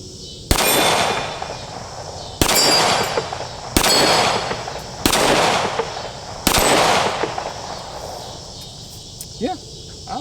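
A Taurus G3C pistol fires five sharp, loud shots at irregular intervals at steel targets, each crack trailing off into a ringing echo, with a brief faint voice near the end.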